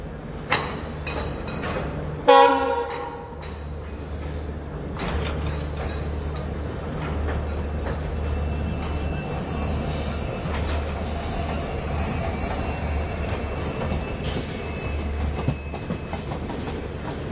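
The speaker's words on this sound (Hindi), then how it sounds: "एक्सेलरेशन फील कीजिए, देखिए 2 लोकोमोटिव का, पुश पुल टेक्नोलॉजी वाली ट्रेन का।" A diesel-hauled Rajdhani Express push-pull train with two locomotives picks up speed, a steady low rumble of wheels and rail running throughout, with a sharp clatter burst near the start and faint squeals above.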